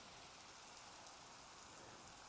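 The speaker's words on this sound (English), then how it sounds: "It's raining." Steady, even rain falls in the Minecraft video game, a faint, continuous hiss with no breaks.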